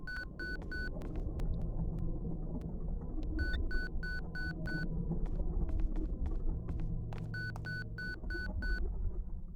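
A repeating electronic radio signal from a device in the Japanese Dreamcast horror game 7 Mansions: Ghastly Smile, sounding as three bursts of rapid, evenly spaced two-tone beeps over a low, steady rumbling game ambience.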